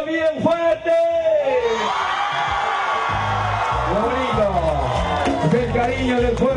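A crowd at a political rally in Pucallpa, Peru shouts and cheers loudly and continuously, a close mass of voices rising into a roar as an announcer's amplified voice speaks over it.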